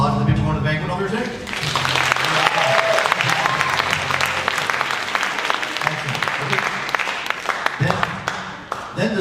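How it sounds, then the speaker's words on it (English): Audience applause in a school auditorium during a high school combined bands spring concert, a loud, steady roar of many hands clapping that continues throughout, with brief voices and crowd noise mixed in. "A round of applause for the people going to the banquet on Thursday."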